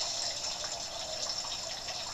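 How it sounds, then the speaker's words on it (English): Water running from a backyard pond, a steady faint trickling and splashing wash continuing throughout with no voices. "I'm sure you can hear water running in the background. That's my pond."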